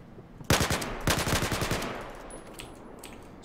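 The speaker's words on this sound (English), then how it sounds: "But there's burst fire mode." Burst-fire gunshots from the video game Battlefield 4: a short sharp burst, then a longer run of rapid shots that trails off into echoing quiet.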